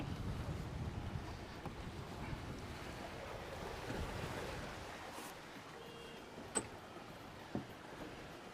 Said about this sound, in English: That's a nice wind.